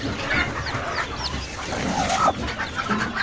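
A native desi hen clucks among her chicks on a village farm, with faint peeping and scattered clucks over a busy background and a few sharper calls along the way.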